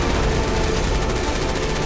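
In Resident Evil 6 gameplay, rocket launcher explosions and gunfire merge into a loud, continuous barrage of dense rumbling blasts with no pauses.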